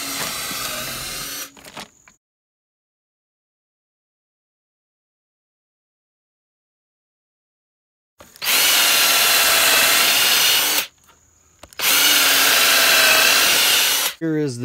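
A power drill boring holes into logs for mushroom inoculation, with a short burst, a long silence, then two sustained loud whirring drilling runs separated by a brief pause.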